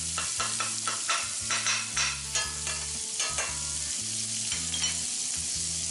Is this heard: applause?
no